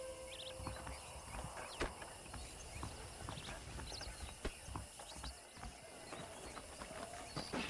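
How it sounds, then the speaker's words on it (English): Horse hooves clip-clop at a steady walking pace in the Western video game Red Dead Redemption, with a snort or whinny now and then over a quiet outdoor ambience. "The horses are saddled up over here."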